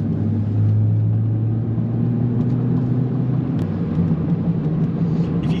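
A VW Golf Mk8 accelerates up a freeway on-ramp, a steady low engine drone and road rumble heard from inside the cabin throughout, with no talking.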